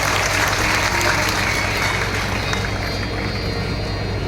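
An audience at a Ram Katha sermon in Varanasi claps together in a dense, sustained burst of applause that stays loud and even, fading slightly near the end.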